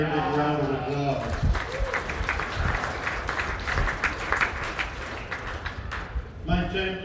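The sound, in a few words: applause for the lambs at a county fair sheep show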